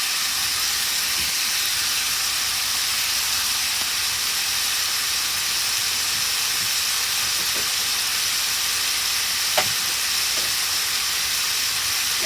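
Beef and bitter gourd fry with sesame oil in a pan, a loud, constant close-up sizzle and hiss with a few faint clinks of stirring, no voices.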